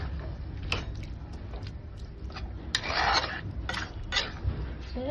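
A spoon stirs and scrapes through a vegetarian spinach curry in a pan, with uneven clinks and rubbing strokes and a louder burst of scraping midway. There is no talking.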